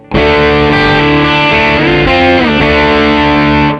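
Guitar through an Xotic AC Comp pedal in comp mode, compressed for sustain with a smoother attack: a loud overdriven chord held for a few seconds with a slight bend midway, close and alone, ending abruptly.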